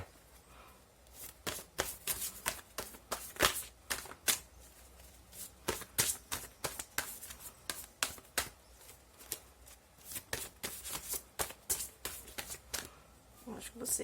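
Tarot cards being shuffled by hand, giving repeated riffling and slapping bursts in a quick, uneven rhythm that stays close and fairly clear across the stretch.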